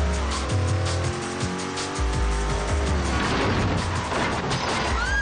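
Loud racing-car engine roaring and revving in the street-racing video game Midnight Club 3, with tire squeals and a rushing whoosh as the car speeds past objects, continuous and close.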